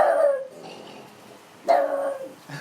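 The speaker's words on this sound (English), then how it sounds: "Our dogs, I love them." Household dogs bark indoors, two loud resonant barks separated by a quiet pause, followed by a shorter yelp, with no talk.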